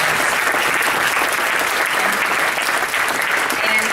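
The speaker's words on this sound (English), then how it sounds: "Let's give Jason another round of applause" A crowd applauds Jason Wright, nicknamed the Funky Junkmeister, at a Champ's Ball awards program, the clapping dense, steady and loud for the full stretch with no pause.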